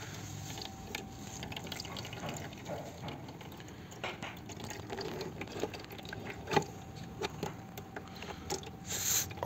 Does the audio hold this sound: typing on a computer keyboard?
no